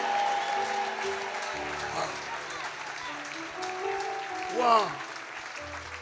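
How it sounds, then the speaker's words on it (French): Congregation applause and cheering fill a church service, steady clapping under occasional voices with one loud exclaimed cry near the end. "Acclame pour toi-même."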